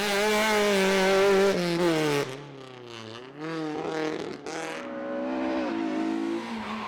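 A Mazda 323 race car climbs the Houyet hill-climb course with its engine revving hard. The strained engine tone rises and falls through gear changes as the car passes close and loud.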